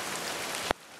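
Rain falling on a metal-roofed yurt above a steep mountain drop-off: a steady, fairly quiet hiss of drops with no voices, cut by a brief click near the end, after which it carries on softer.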